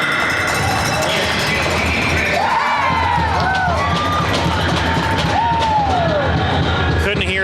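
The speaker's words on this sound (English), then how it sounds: "CSUN's bench was cheering John Michael Lauren's hit" Hockey players on a CSUN ice hockey bench cheer a hit during a game against Utah Valley, a loud crowd roar with whoops and shouts, overlapping a busy arena din throughout.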